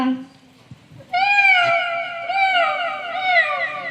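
A child at a residential school imitates a cat with the voice, giving a long, rising and falling meow that is drawn out and wavering, loud and close, after a brief quiet lead-in.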